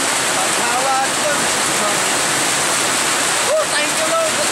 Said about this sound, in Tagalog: Masarap maligo guys sa ulan.